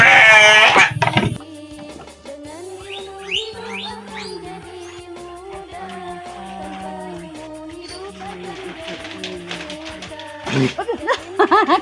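Ordinary, non-breed sheep in a farm pen bleat repeatedly at close range, with several wavering calls overlapping and a person talking over them near the start and end.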